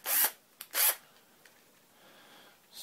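Two short whirring bursts of a Hitachi 10.8V lithium 3/8-inch cordless drill spinning in low gear, with a brief click between them, then quiet room noise.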